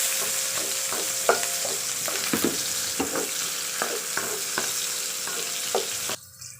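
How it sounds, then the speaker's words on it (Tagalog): Onion sautés with garlic in a pan, a constant sizzle punctuated by regular knocking spatula strokes against the metal, before the sound drops away sharply at the end. "Then, sunod na natin yung onion. Sibuyas. Saute lang natin."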